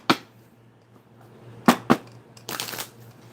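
A deck of tarot cards is shuffled in several quick bursts: a sharp riffle, a pause, two close snaps, then a longer rustling shuffle, heard close up over a faint low hum.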